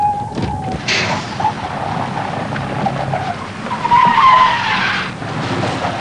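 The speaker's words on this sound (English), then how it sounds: "The locked wheels are moved from side to side, but the vehicle keeps sliding straight ahead until it comes to a standstill." A vehicle with locked wheels slides on a wet road during an anti-lock braking demonstration, giving a continuous hissing skid with a brief tire squeal partway through and no talk.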